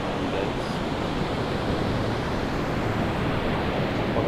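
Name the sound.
ocean waves at a surf beach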